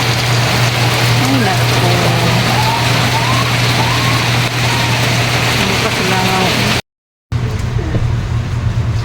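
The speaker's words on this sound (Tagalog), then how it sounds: "Ulan na po. Kusog-kusog kaayo." Heavy night rain pours steadily in Palawan, a dense continuous wash of drops with a low engine-like hum underneath, broken by a brief cut near the end.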